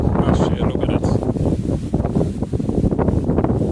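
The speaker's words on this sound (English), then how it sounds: "It's a very windy day." Strong, gusty wind buffets the microphone near the erupting La Soufriere volcano on St Vincent amid falling ash, a loud continuous roar with pulsing surges and no clear speech.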